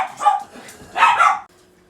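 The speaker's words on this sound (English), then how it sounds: "sorry about that, my dog's barked" A dog barks twice indoors, two loud close yips with a short pause between, while someone crochets a baby doll cradle purse; quiet afterward.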